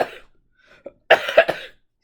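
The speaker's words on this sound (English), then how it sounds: "a little coughing fit." A short cough, a brief pause, then a burst of several harsh coughs in quick succession, close and clear.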